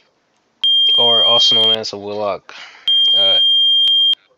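Steady high-pitched trouble beeping from a fire alarm panel in a Roblox game, a continuous electronic tone running loud through most of the clip with a short break, heard under someone talking.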